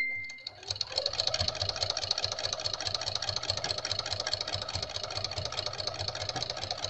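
Sewing machine running steadily as it stitches a half-inch seam around a flannel-lined spring fabric coaster, a continuous close mechanical whir with rapid needle rhythm starting after a short pause.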